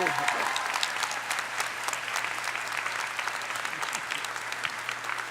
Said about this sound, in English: Let's have a nice warm applause for Dr.